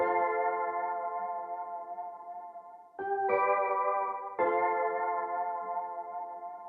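Warm layered synth keys hold sustained chords with a shimmering, wavering chorus effect, changing chord twice, soft and distant-sounding.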